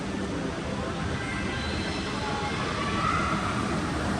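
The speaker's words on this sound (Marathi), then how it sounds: "चालू आहे इशू बघ ट्रेन" A train rumbles past nearby with a continuous, loud rolling roar and faint rail squeal, steady from start to finish.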